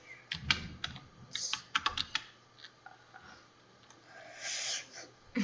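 Rapid, uneven keystrokes on a computer keyboard typing a search, clustered in short bursts of close clicks and taps, with a soft rustling stretch near the end and no talking.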